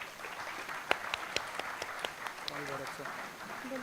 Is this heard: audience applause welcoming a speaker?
yes